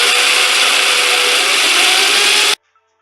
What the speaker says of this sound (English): Okay, all done with the drilling.